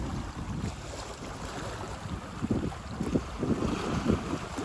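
Steady wind gusting along a seashore, with the low rumble of waves and breezy buffeting across the microphone, rising a little toward the end.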